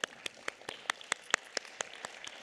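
Applause at a county board of supervisors meeting, heard as sparse, evenly spaced claps at moderate distance, fairly faint, with no talk.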